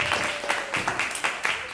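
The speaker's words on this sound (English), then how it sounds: "Please, another round of applause for the wonderful performance." An audience at a vocal department industry showcase applauds a singer's performance with rhythmic, fairly close clapping, and a sustained tone sits faintly beneath the claps.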